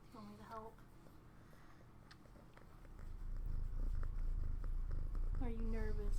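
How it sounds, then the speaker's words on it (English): A cat's low, steady rumbling purr swells up close and continues, with a couple of short vocal sounds breaking in at the start and end. "but she is purring"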